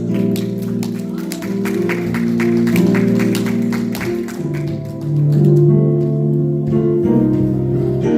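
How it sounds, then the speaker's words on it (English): A church congregation claps along during worship, steady rhythmic hand claps running under sustained music and singing throughout. "Come on and clap those hands."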